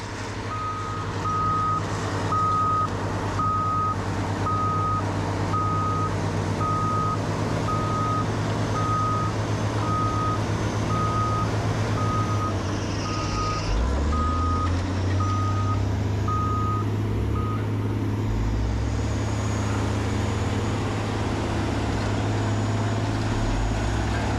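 A heavy truck engine rumbles steadily while a reversing alarm beeps at a regular pace for most of the stretch, then stops.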